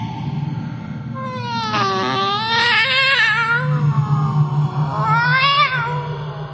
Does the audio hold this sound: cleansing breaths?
no